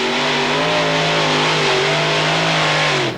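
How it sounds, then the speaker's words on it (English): A pulling tractor powered by four Chevy engines roars at full throttle while dragging a weighted sledge at a 1996 European tractor pulling event in Hörby, Sweden. The sound is a loud, sustained, close engine howl that holds steady before it cuts off at the end. "Peter Larsen opening up his 4 Chevys, up on 2 wheels, straining with the sledge"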